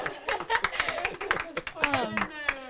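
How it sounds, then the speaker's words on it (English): A small group claps for a girls' team at a tailgate gameday show, a short burst of close, uneven claps with voices talking over it. "A little round of applause."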